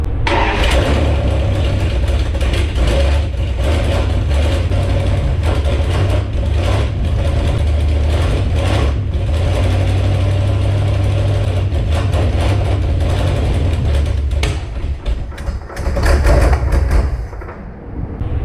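A home-built drag car engine cranks, fires and runs loudly up close, a rough continuous roar with throttle blips, then stumbles and fades near the end, no talk.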